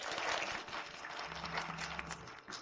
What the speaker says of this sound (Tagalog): Bigyan natin sila ng malakas na palakpak.